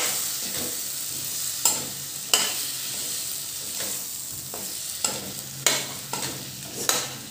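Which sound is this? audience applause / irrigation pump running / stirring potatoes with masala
stirring potatoes with masala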